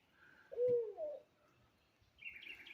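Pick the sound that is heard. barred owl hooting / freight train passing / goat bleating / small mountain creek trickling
barred owl hooting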